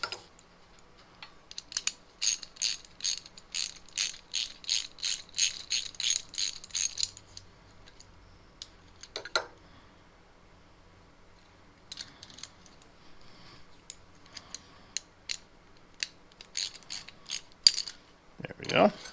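Ratchet wrench tightening a lock nut while an electric hoist is installed, a rapid run of close, crisp clicks in repeated strokes, a pause, then more bursts of ratcheting.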